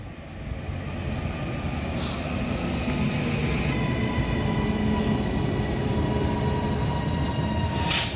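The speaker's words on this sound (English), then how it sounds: "Now arrives in with the 1552 Northern service to Manchester Piccadilly" A Class 331 electric train arrives at Heaton Chapel station, Manchester, rumbling steadily along the track, a continuous loud rolling drone with a faint electric whine and a brief hiss near the end.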